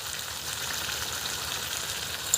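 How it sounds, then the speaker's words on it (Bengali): Chopped onion and green chili frying in fish oil: a dense, continuous crackling sizzle heard up close, unbroken for a couple of seconds and without any talk. "এবার তাহলে আর এটা ভাজবো এটা তেল উঠবে এইভাবে একটু ভালো করে ভেজে নেব"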